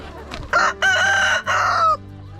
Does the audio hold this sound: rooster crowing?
yes